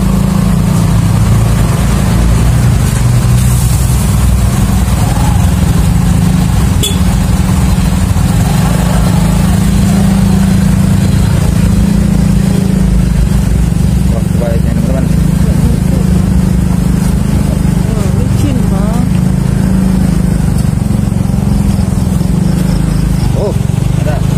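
A motorcycle engine runs steadily in a stalled traffic jam on the road between Palembang and Jambi, a low, continuous idling rumble close by, with a voice speaking over it at times.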